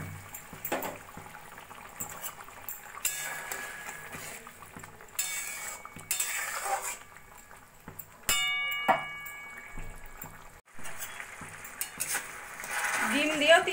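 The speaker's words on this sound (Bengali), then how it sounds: "মশলাটা ফুটে উঠেছে, এবার দিয়ে দেবো আমি ভেজে রাখা ডিমগুলো" Fried eggs go into a simmering masala egg curry in a home kitchen pan, with intermittent metal clinks, scraping and stirring against a soft low background, and a few louder clatters near the end.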